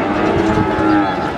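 A cow at the Pon Pati animal market lets out one long, loud, close moo that fills the whole moment, droning steadily without a break.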